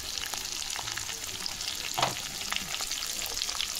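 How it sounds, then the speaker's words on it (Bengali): Potatoes coated with turmeric and salt fry in very hot oil, giving a dense, constant close-up sizzle with crackling pops and an occasional stir, steady throughout and with no voices. "আলুগুলোকে লাল লাল ভাবে ভেজে নেব"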